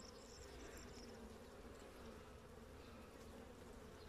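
Honeybees hum steadily around an opened hive frame holding brood from a weak colony that was strengthened, a continuous low buzzing drone at moderate distance with no talk.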